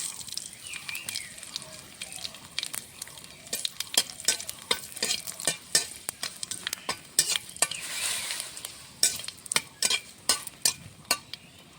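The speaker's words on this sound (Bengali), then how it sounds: "কড়াতে দিয়ে দেবো সর্ষের তেল দিয়ে দেবো ফোড়নে শুকনো লঙ্কা কালো জিরে" Dried red chillies and nigella seeds crackle in hot mustard oil in a kadai, tempering for a jute-leaf dal, with busy popping sizzle and frequent quick metal stirring clinks throughout.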